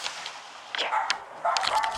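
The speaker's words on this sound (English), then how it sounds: "That was my dog." A pet dog in a house barks twice in quick bursts, slightly distant and somewhat muffled, over a faint background hiss.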